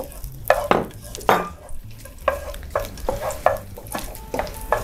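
Crushed, chopped garlic is stir-fried in a pan, with sizzling frying under repeated scraping and stirring strokes of a utensil against the metal, close and busy in an uneven rhythm.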